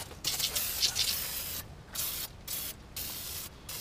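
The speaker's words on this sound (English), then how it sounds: "And then we're going to take some PB Blaster." PB Blaster penetrating spray hisses from an aerosol can onto engine parts during a Nissan 240SX drift build, in several short bursts separated by brief pauses, close and fairly loud.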